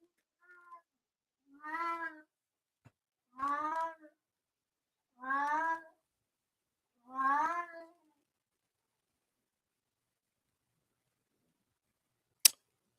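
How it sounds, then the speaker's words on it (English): A house cat meows four times at a steady, unhurried pace, each call drawn out and close, with a soft chirp before them and a sharp click near the end in an otherwise quiet room. "my wife's cat wanting to get into the show tonight and be a special guest appearance"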